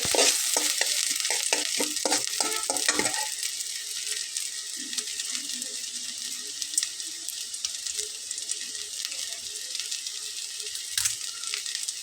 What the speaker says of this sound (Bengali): তো তেলটা একটু গরম হয়ে আসলে আমি সেটাতে ছোট্ট একটা পেঁয়াজ দিব।